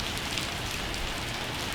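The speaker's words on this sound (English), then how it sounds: "So it's a little rainy here." Steady rain falls during an East Tennessee road-trip stop, a soft continuous hiss of drops on surfaces with no talk, even and unbroken throughout.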